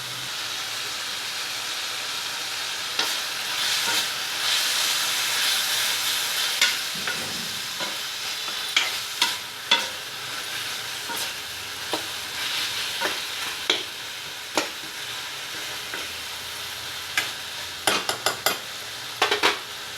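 Coriander with its stems cooking in a pan for a coriander, tomato and mint chutney, sizzling steadily while a spoon scrapes and stirs it in repeated sharp clinks, close and alone with no talking.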